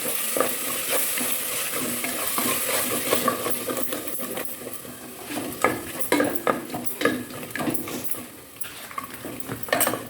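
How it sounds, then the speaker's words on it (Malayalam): Yogurt being stirred into a sizzling beef mandi mixture in a pan, with a spoon scraping and clinking against metal over a steady frying hiss, close and fairly loud, no talking. "തൈരും കൂടെ നമ്മൾക്ക് ചേർത്ത് കൊടുത്തിട്ട് ഒന്ന് ഇളക്കി യോജിപ്പിക്കാം"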